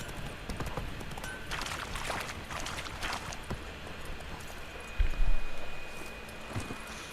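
Horse hooves clip-clop steadily across ground in The Witcher 3 as Geralt rides his horse, a continuous trotting rhythm under game ambience, with a heavier thump midway.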